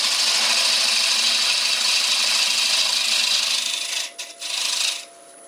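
A rough rasp filing a wooden ring turning on a lathe in traditional German ring woodturning, a steady close continuous rasping hiss that breaks off briefly near the end.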